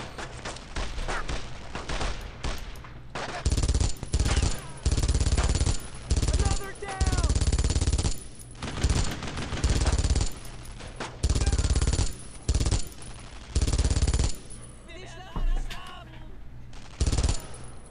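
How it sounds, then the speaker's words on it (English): Machine gun fire in the World War II shooter Brothers in Arms: Road to Hill 30, with loud repeated bursts separated by short pauses over roughly eighteen seconds and occasional voices in between. "let's try this machine gun out"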